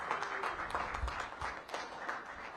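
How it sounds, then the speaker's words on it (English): Audience applause at a mayoral event launching a downtown housing program, a dense, steady wash of many hands clapping that fills the clip without pause and stays at moderate level. "So please give Leona a big round of applause"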